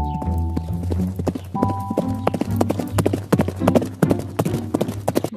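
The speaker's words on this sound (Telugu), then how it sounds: "గుర్రం కొంత దూరం పరిగెత్తగానే" A horse gallops in a race with rapid, rhythmic hoof beats that sound near and fairly loud, and a brief whinny shows at the start.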